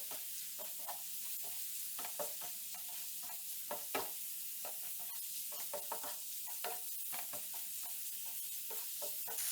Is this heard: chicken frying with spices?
yes